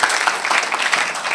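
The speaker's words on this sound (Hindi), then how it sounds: "जोरदार ताली हो जाए भाई के लिए।" Applause from an audience at a community event in Mysore breaks out for a man called up on stage, a dense, steady patter of many clapping hands lasting throughout, close and fairly loud with no talk over it.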